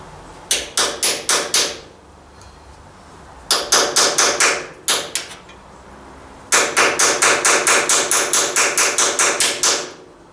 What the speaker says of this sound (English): Got a little bit bigger hammer